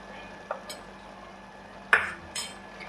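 A metal spoon clinks against a pan while stirring red chilli, turmeric and coriander powder into cooked tomato and onion masala, a few sharp taps and scrapes close by in a quiet kitchen.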